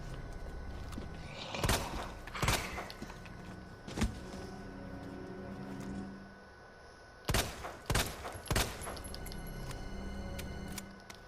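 Gunfire in the Resident Evil 2 video game: several clusters of loud, sharp shots, a pair early and a quick run of three later, over a steady game ambience with low rumbling in between.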